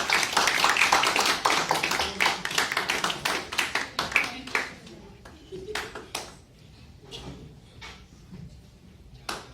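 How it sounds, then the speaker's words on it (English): An audience at an entrepreneurship talk applauds to welcome the speaker, with a dense burst of clapping that thins to scattered, separate claps, and voices murmur underneath. "Let's have a big round of applause, please."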